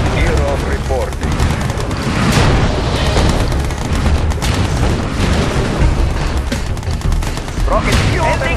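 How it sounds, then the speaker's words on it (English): V3 rocket launches and explosions in the Yuri's Revenge strategy game come through as dense, continuous gunfire and booming blasts, loud and sustained for the whole stretch with battle noise layered over it. "Missile launch confirmed. We have ignition."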